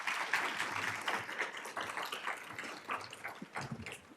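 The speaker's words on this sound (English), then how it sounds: "If we can give a round of applause to all of them." An audience at a law school preparation panel applauds the panelists, a dense, steady patter of many hands clapping that stays moderately loud throughout.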